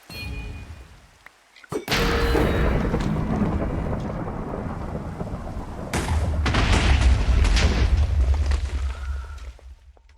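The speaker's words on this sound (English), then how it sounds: "just a bit more rain and thunder needed" Thunder in Minecraft rolls in after a quiet opening, a sharp crack near two seconds followed by a long, loud rumble with rain that swells again toward the end, no voices over it.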